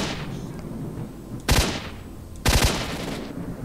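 Two sharp gunshots ring out about a second apart in S.T.A.L.K.E.R. Shadow of Chernobyl, each a loud crack with a brief rumbling tail over a steady background hum.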